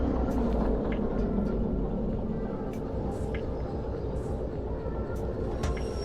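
Train rumble in Derail Valley VR as a locomotive is pulled forward, a steady low rolling drone with occasional faint clanks and hisses throughout.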